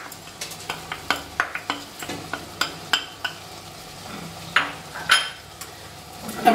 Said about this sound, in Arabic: الرز، ضروري خصو يتشحر مع هذا الدجاج والبصله بحال كتقليه.